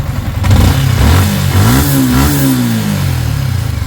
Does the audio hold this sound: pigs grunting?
no